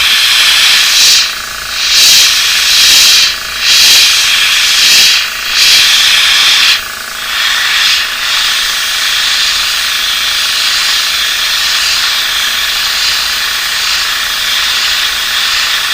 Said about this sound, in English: Airbrushing is awesome when it works good for you.